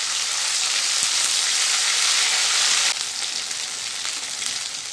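Ground spice paste of ginger, cumin and dried red chilli hits a hot pan and sizzles in a dense, steady hiss that eases slightly partway through, with no talking.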